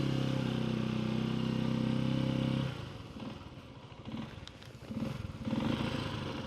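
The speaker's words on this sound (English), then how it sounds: "We're shifting down into first gear from neutral and letting out the clutch." Janus Halcyon 250 motorcycle shifting into first gear and pulling away, a loud steady idle drone that drops, then rises in uneven surges of engine note as the bike moves off.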